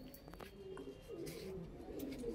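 Pigeons coo softly and repeatedly, low murmuring calls overlapping close by in a rooftop loft of Punjabi high-flying pigeons, with faint background noise and no clear talk.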